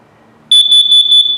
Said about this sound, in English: That's your LP detector. So that should always make sure, let me give it a self-test here.